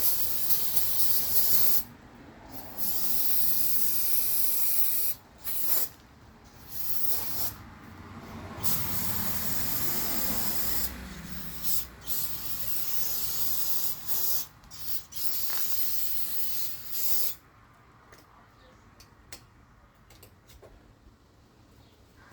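An aerosol can of brake cleaner sprays in repeated bursts of loud hissing, some long and some short, with brief quiet gaps between them.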